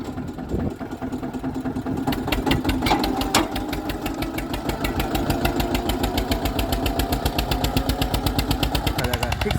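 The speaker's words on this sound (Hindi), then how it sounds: "काफ़ी अच्छा ट्रैक्टर है और 1992 मॉडल ट्रैक्टर है।" A 1992 Eicher 242 tractor engine runs steadily and loud throughout, with a rapid, even chugging pulse that holds its rhythm for the whole stretch, with a 14-disc harrow attached.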